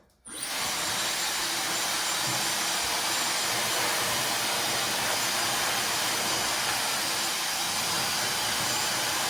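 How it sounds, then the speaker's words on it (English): A Dyson hair dryer blows steadily on hair, a loud continuous airy whoosh that switches on abruptly after a brief quiet moment and holds constant throughout. "I really do feel like it blow dries my hair so much faster than the other blow dryers that I have tried"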